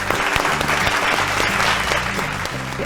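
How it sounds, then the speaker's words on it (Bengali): Loud, dense applause from a studio audience for two family game show contestants, continuous clapping close up with a few faint voices underneath. "জোরে হাততালি দুজনের জন্য"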